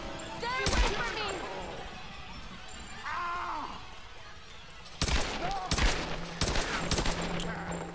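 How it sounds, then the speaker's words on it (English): Gunfire from the Tomb Raider video game, with sharp shots in two bursts, one near the start and a cluster in the second half, set against game ambience and voice sounds. "Oh, Laura's never used a gun before."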